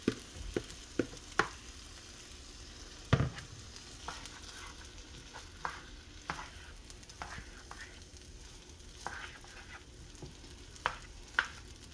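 Onions frying in a wok for Chinese fried rice, a soft low sizzle beneath repeated sharp scrapes and clacks of stirring, fairly faint and close.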